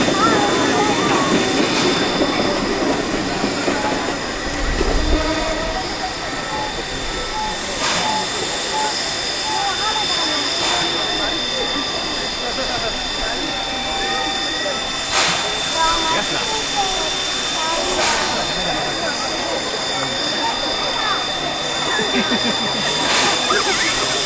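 Thomas the Tank Engine steam train on the Oigawa Railway on its first day of running, passing with a steady rolling rumble and hiss over about twenty-four seconds, amid outdoor ambience with people talking nearby.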